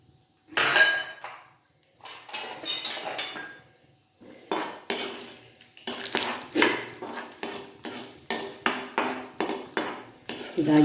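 Cashews tossed in hot oil in a pan for curry leaves fried rice, heard as repeated metallic clinks and scrapes of a spoon against the pan, with a steady run of clattering strokes toward the end and no talking.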